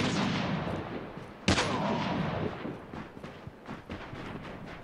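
Gunfire in a video game, a sharp loud shot standing out over a noisy, rumbling game soundscape, followed by fainter scattered pops.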